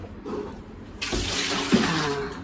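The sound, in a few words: rinsing bird meat under running water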